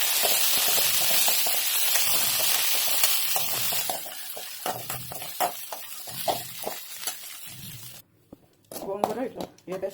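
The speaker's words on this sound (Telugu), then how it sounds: "గోంగూర కూడా ఆయిల్లో ఫ్రై చేసుకోవాలి." Gongura (sorrel) leaves sizzle steadily in hot oil, a loud continuous hiss for the first few seconds that fades, followed by a speaking voice and occasional stirring clatter.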